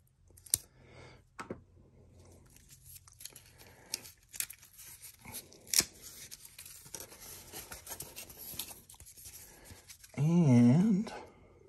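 Packing tape being cut and stripped off a mail package sent from Anchorage, Alaska: scattered close crinkles, clicks and tearing scrapes, ending in one loud, sustained rip.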